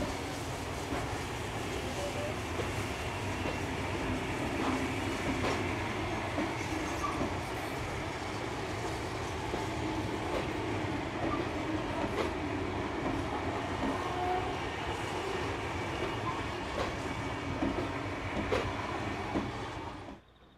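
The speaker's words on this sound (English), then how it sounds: "6029 will start shunting operations and servicing ready for the return journey" Steam locomotive 6029 shunts at a New South Wales station with a steady, moderately loud rail rumble, broken by scattered wheel clicks and clanks that continue for about twenty seconds before fading.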